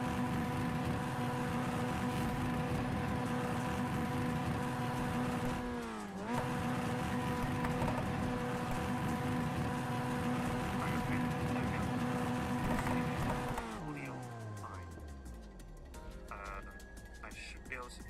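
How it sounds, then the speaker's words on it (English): A racing car's engine revving in iRacing: a loud, sustained high-rpm whine that briefly dips and recovers, then winds down in falling pitch near the end, with a voice speaking over it. "I just rev the engine up."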